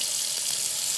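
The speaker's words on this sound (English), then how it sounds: "turn on your faucet, rotate it around" Steady, continuous water flow from a kitchen faucet just turned on after a drip repair, a close, even hiss with no other sounds.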